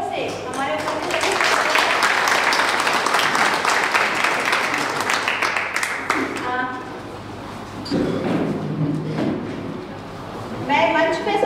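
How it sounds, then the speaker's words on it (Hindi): Clapping from the audience at a welcome ceremony swells loudly for several seconds, then thins out as a voice speaks, with scattered claps returning near the end. "सभी ताली बजाकर एक बार जोर से हमारे उपस्थित"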